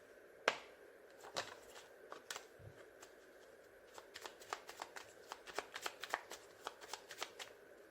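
Tarot cards shuffled by hand, a crisp run of riffles and flicks that quickens into a steady patter of sharp slaps in the second half, close and quiet with no voices.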